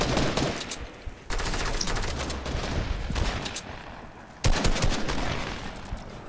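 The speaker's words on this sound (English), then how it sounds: "Watch out for the sniper. There's one guy sniping." Rapid, loud gunfire bursts from a sniper and other weapons in a battle royale arena video game, with sharp cracks and dense volleys that briefly pause and then resume.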